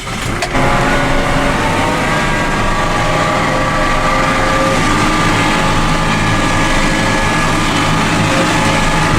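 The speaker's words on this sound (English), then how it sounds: "I grabbed a bit of the footage of the neighbours doing their silage making" Neighbours' farm machinery making silage in dry grassland weather, a loud steady engine drone with tonal whine running continuously close by, starting after a brief thump, with no talking.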